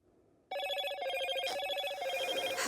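A phone rings with an incoming call, the repeating electronic ringtone starting suddenly after a moment of near silence and then continuing loud and close without any talk.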